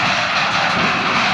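A stone picker working a freshly tilled field in Mazowsze, Poland, with stones rattling and clanking inside the machine: a loud, dense, continuous mechanical roar with no pauses.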